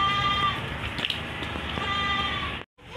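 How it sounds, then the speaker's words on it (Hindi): A jumbo-size Patteri goat bleating at a goat market in Karachi: one long, loud, nearby wavering bleat filling most of the moment, with a second bleat cut off at the end. "माशाल्लाह से ये एक पटेरी बकरी फोर सेल है, जम्बो साइज़ की बकरी है"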